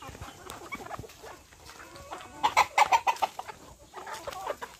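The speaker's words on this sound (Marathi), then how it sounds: "तिच्या बाजूला एक कोंबडी आहे" Country chickens cluck nearby in a rural yard, a quick burst of loud clucks in the middle over quieter scattered clucking and background noise.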